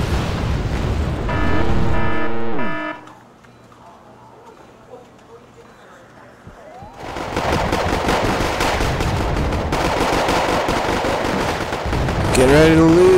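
Rapid bursts of gunfire and battle noise from the real-time strategy game Wargame: AirLand Battle, loud and dense, broken by a quieter stretch before the firing swells again, with voices talking over parts of it.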